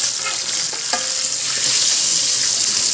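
Fried snacks such as fish and eggplant fritters are flipped in a multi-function electric robot curry cooker: steady close sizzling of hot oil with a few sharp clinks and scrapes of a utensil against the pot.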